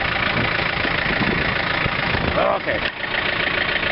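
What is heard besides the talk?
John Deere 110 TLB tractor engine running snow blower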